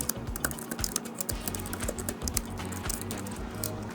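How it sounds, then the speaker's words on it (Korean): Quick, steady typing on the keys of an Apple Magic Keyboard, with close, soft, rapid clicks in an uneven rhythm over a faint background hum. "그런데 매직 키보드의 키감을 좀 보여드리면"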